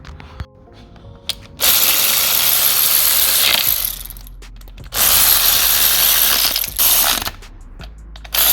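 Ratchet wrench tightening bell housing bolts on a 2018 Skoda Superb during clutch slave cylinder replacement, loud and close, long buzzing clicking runs separated by short pauses, alone without talk.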